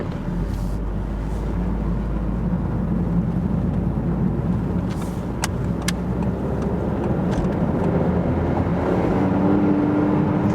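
Steady, moderately loud 2017 Audi TT RS five-cylinder engine running smoothly at a constant drone with its sport exhaust switched off, no pronounced exhaust rumble or revving.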